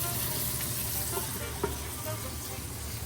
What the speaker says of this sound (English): make sure to scrape all that up, mix that in